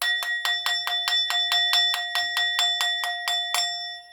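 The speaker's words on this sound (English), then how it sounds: "This is a victory bell as the judgment horn blows in the background." Victory bell ringing in a rapid, even series of about sixteen bright metallic strikes, each ringing on briefly, loud and close, with a steady high tone sustained underneath.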